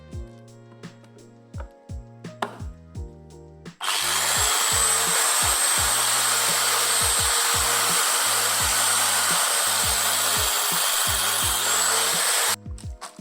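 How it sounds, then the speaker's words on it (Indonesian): A 4-inch angle grinder cutting wood whines steadily for about nine seconds, loud and close, with intermittent tapping and a low rhythmic thump before and after it. "untuk motong-motong kayunya aku masih pakai gerinda tangan dengan ukuran 4 inch"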